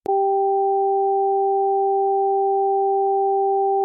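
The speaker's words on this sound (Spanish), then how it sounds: "Agudo grave en un oído, grave agudo en el otro." Two steady pure sine tones, one high and one low, sounding together without a break for about four seconds as an auditory octave illusion test; loud, clean and electronic, starting abruptly with no other sound.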